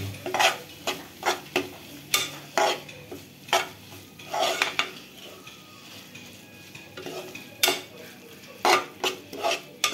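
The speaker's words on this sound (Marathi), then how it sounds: "परत मस्तपैकी छानपैकी एकजीव करून घेऊया, परतून घेऊया मिश्रण" Masala mixture with turmeric and asafoetida being stirred and sautéed in a pan for a mutton offal dish, repeated sharp scraping clacks of a spoon over a low sizzle, close and rhythmic.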